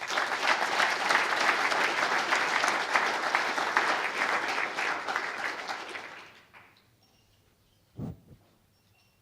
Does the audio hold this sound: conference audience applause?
yes